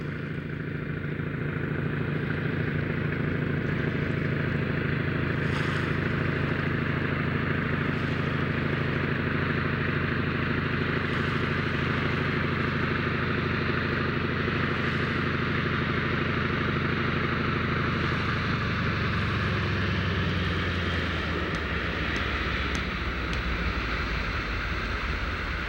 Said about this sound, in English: By the time the plane's floats touch McNeil Cove, passengers have been treated to a brief aerial tour of the terrain.